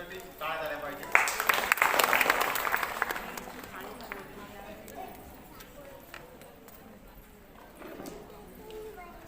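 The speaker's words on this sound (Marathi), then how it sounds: "त्यांच्यासाठी टाळ्या झाल्या पाहिजे" A short burst of audience clapping at a prize distribution ceremony in Chandwad rises for a couple of seconds and then fades, with a voice speaking over and after it.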